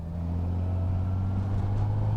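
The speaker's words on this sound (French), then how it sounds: "il y a de la réponse quand tu accélères" A Honda Goldwing bagger with a flat-six engine and manual gearbox pulls steadily under acceleration, a smooth low engine drone building slightly in a short continuous stretch with no talk.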